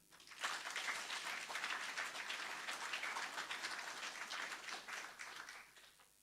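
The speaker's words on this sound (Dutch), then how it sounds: "Hartelijk welkom en een groot applaus voor Ron Vrezen." An audience at a lunchtime lecture applauds a speaker being welcomed, many hands clapping in a sustained, even burst that tapers off at the end, heard from some distance in a hall.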